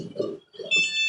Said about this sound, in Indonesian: dia akan berhenti, kemudian mengeluarkan alarm peringatan dan berputar menari-nari